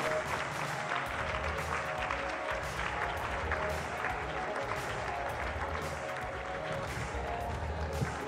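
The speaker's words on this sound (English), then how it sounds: "Can we have a big round of applause for Mr. Ovi King?" An audience at an evening presentation on the science of Black hair gives a steady, dense round of applause with some crowd noise, lasting throughout.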